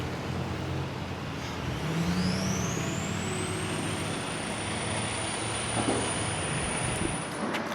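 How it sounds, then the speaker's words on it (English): Debris trucks work along West Gulf Coast Drive on Sanibel Island after a hurricane, giving a steady rumbling engine drone with a rising whine, continuous and fairly close, no talking. "Here's some debris trucks in action, picking up all the debris along the West Gulf Coast Drive"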